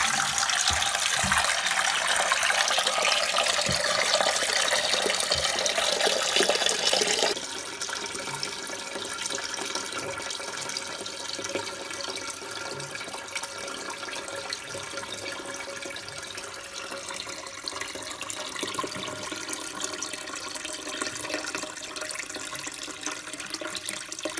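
Water gushes loudly into a toilet cistern after a fitting repair, a strong hissing rush that drops abruptly to a quieter, steady trickle and fill that continues to the end, close up with no talk.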